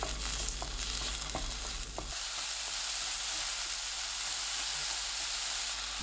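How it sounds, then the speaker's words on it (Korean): Minced garlic and onion stir-fry in a tablespoon of cooking oil in a pan over medium heat, giving a steady soft sizzle with a few light taps early on. The sound is fairly quiet and no one speaks. "팬에 식용유 1큰술, 다진 마늘 1큰술, 양파 넣고 중불로 1분 30초 볶습니다"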